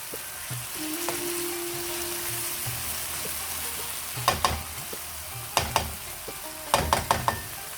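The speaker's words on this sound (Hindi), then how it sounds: "हम इसको इतना फ्राई करेंगे कि इसमें टमाटर गल जाएं और प्याज भी।" Tomatoes and onions fry in a pan for dhaba-style masala bhindi, with a steady soft sizzle throughout. Several sharp spoon-scraping clanks come in bursts toward the end.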